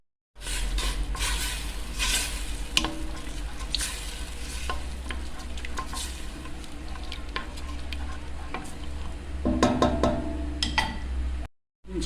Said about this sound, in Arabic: ونخليها تقلى